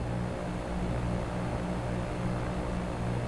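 A Cessna propeller engine in the X-Plane flight simulator game gives a steady, moderately loud droning hum with a low throbbing tone, unchanging for the whole moment and with no talk.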